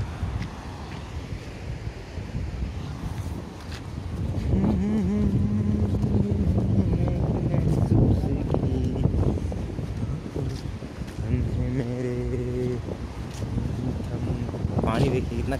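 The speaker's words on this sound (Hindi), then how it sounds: "देखिए पानी कितना बेजोड़ एकदम बह रहा है, आवाज़ सुन सकते एकदम गरज।" Floodwater of a swollen river roars past near a village, a loud, steady broadband rush that runs unbroken through the whole stretch while someone talks over it close to the microphone.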